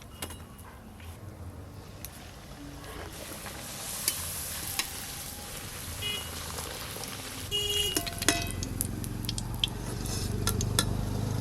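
Luchi puffing as it fries in hot oil during a festive puja meal: a quiet, steady sizzle with occasional clinks and stirring noises from the pan.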